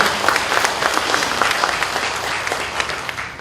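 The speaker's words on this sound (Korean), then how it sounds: "뜨거운 박수 한번 주시면 어떨까요?" Audience applause at a citizens' group launch ceremony in Busan, a steady dense clapping from a crowd that runs the whole stretch at even loudness and tapers slightly at the end.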